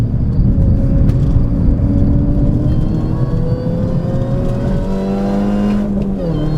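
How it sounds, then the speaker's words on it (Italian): A loud Mini Cooper JCW R53 GP engine drones steadily with rising supercharger whine layered over the rumble, climbing in pitch as it revs, no voices. "E il rumore del compressore devo dire che mi piace veramente tanto."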